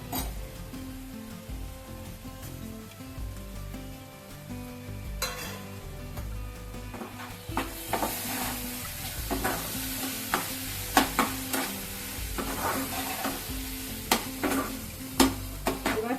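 Chicken pieces sizzle and spatter in a hot pan, a loud steady frying hiss with sharp crackles and occasional clinks of a utensil against the pan. No one talks.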